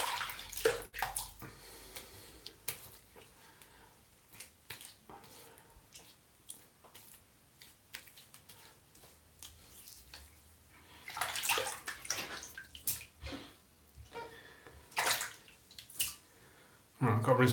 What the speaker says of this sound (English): Right, I've got to rinse that brush out again now.